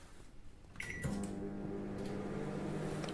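A Samsung MG23K3515AW 23-litre grill microwave oven is switched on: a couple of short electronic beeps and clicks, then a steady low mechanical hum as it runs, close by with no talking.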